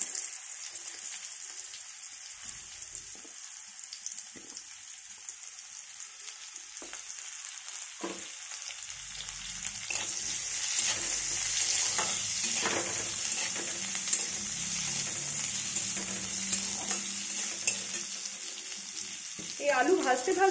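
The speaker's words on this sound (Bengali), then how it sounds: "এরপরে আরেকটু তেল অ্যাড করলাম, সেই তেলে আমি আলুগুলোকে ভেজে নিচ্ছি।" Potatoes fry in oil with a steady hiss and crackle for vegetable prawn chorchori, quiet at first and building to a fuller, louder sizzle, with occasional stirring scrapes; no one speaks.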